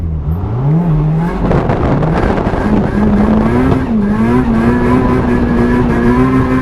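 A car engine loud and close as the car drives a race track in New Zealand, revving and shifting with the pitch rising and falling through gears, tires faintly squealing underneath.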